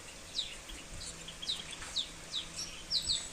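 Small birds chirp in short, high, quick notes, repeating every half second or so, faint and somewhat distant against a quiet background.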